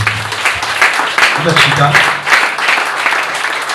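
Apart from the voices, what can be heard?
congregation applause in church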